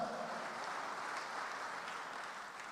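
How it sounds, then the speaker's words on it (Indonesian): Steady applause from a Christmas church congregation, a dense wash of clapping that holds at an even level throughout with no voices over it. "Tepuk tangan untuk Yesus, saudara-saudara."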